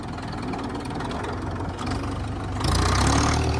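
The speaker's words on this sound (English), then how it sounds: "Now we're running on diesel. Idling." A Farmall Super MTA tractor's diesel engine idles close by in a steady low chug that swells slightly louder near the end, with no voices.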